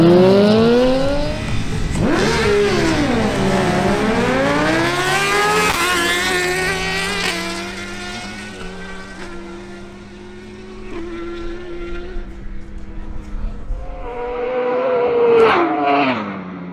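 Suzuki GSX-R1000 and Ducati Panigale V4 sportbikes drag race in Barranquilla, engines screaming up through rapid gear shifts in rising and falling pitch sweeps, fading as they run off, then another loud rev near the end.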